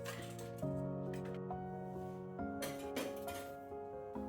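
A fermenting pineapple tepache mixture is stirred on its first day, giving a run of close, quiet clinks and light scraping at an uneven rhythm, with a few brighter knocks toward the end.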